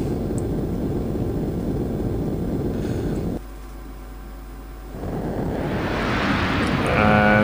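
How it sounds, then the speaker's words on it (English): Eurofighter EF2000 jet fighter afterburners in a flight simulator game; a loud, steady broadband roar that briefly drops to a lower hum before swelling back up. "I'm using my afterburners as well."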